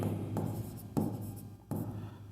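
Pen or chalk scratches out a math solution for an arithmetic progression problem in three distinct strokes, each a soft, close scraping burst separated by short pauses, with no talking.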